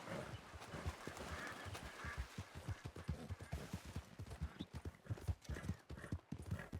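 Horse hooves clip-clop steadily in Red Dead, a fast, even rhythm of close, loud footfalls that runs unbroken from start to finish.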